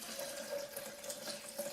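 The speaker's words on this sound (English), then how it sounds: "We're going to add about 750 mils of water now." About 750 ml of water pours steadily into a blender jar over coconut and Brazil nuts for homemade plant milk, a continuous close splashing gush with no talk.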